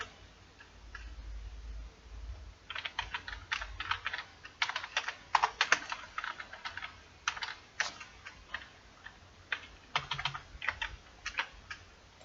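Typing a table caption on a computer keyboard in Microsoft Word, with irregular bursts of close, crisp key clicks separated by short pauses and no talking.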